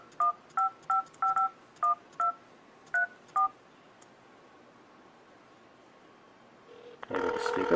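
A phone's dialer keypad sounds a string of about nine short, clean two-tone beeps in quick irregular taps, then goes quiet before a louder burst of sound at the end.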